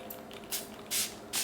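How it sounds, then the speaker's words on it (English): Three short hissing squirts of Smashbox Photo Finish Weightless setting spray, evenly spaced and fairly close, with a quiet pause between each burst. "I always give it a few squirts before so it doesn't splatter out."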